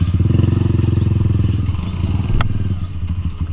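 A Bajaj V15 motorcycle engine putters at idle with a fast, even thumping pulse, close and loud, broken by a brief sharp clack partway through before the steady chugging carries on.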